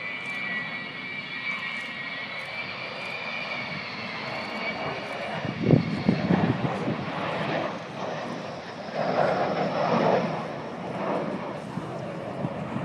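The Avro Vulcan XH558 bomber, powered by four Rolls-Royce Olympus engines, roars steadily overhead at an air show, a loud sustained jet rumble with a high whine that swells and surges as the aircraft passes.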